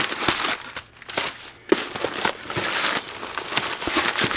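Packing paper crinkles and rustles close up while a Hasport K-swap engine mount kit is unboxed, with irregular crackling bursts and brief pauses throughout.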